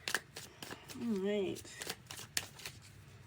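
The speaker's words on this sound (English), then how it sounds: "let me just get these cards shuffled" Tarot cards being shuffled by hand, several quick riffling bursts and soft card slaps close by, interleaved with a person speaking briefly.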